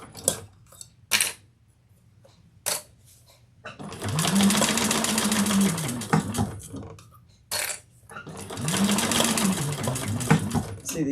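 A sewing machine stitches a fabric bucket bag in two sustained close runs, each rising and settling in pitch, with sharp clicks and taps of handling before and between.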